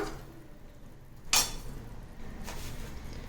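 Samba rava is stirred into boiling water in a pan for upma, a soft scraping swirl with one sharp clink of utensil against metal partway through and a fainter knock later.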